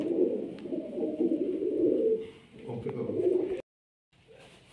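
Pigeons coo in low, throaty, repeated phrases at fairly close range, the cooing broken by a brief gap before a quiet short word is spoken near the end.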